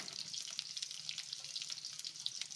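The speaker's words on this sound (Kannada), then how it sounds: "ಸ್ವಲ್ಪ ಕೆಂಬಣ್ಣ ಬರೋವರೆಗೂ ಫ್ರೈ ಮಾಡ್ಕೊಳ್ಳೋಣ" Cloves, cinnamon, cardamom and garlic frying in a pan for Hyderabadi paneer masala, a steady close crackling sizzle with bright spitting pops running throughout at moderate volume.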